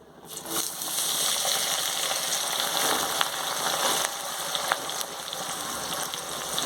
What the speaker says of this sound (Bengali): গ্যাসের আঁচটা বাড়িয়ে পেঁয়াজটাকে ব্রাউন করে ভেজে নেব আগে